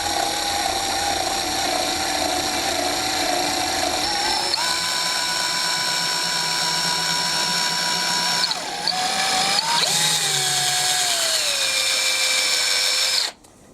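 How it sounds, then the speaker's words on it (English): A power drill whines steadily at close range as it drills straight down into the edge of 3/4 inch plywood, its pitch shifting as it bites and slows, then cutting off abruptly at the end. "Drill bit's in the drill. Go straight down into the edge of the 3/4 inch plywood."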